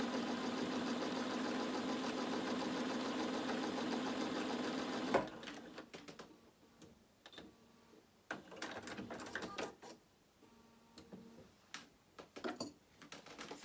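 A sewing machine stitching through fabric, a steady loud mechanical whir for about five seconds that stops abruptly, followed by quiet handling clicks and rustles.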